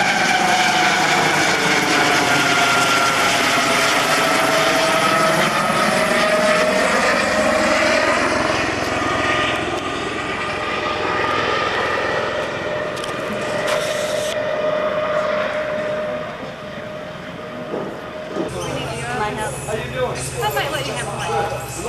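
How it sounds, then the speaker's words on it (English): A Coast Guard helicopter drones steadily overhead along a shoreline on St. Croix during Hurricane Hugo, its rotor hum shifting in pitch as it passes, with people talking faintly underneath. "The Coast Guard helicopter that's been coming around."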